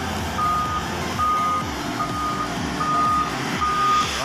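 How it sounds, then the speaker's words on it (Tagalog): A dump truck reversing at a construction site, its back-up alarm sounding five or six evenly spaced beeps over a steady rumbling diesel engine. "Right, matras yung dump truck."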